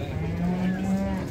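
A cow lows at a livestock market in one long, sustained moo over a noisy crowd, with a voice talking faintly in the background.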